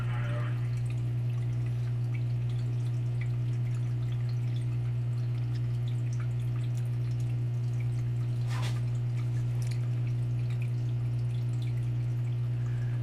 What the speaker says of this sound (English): slowly coming down into the bilge and being stripped out by this pump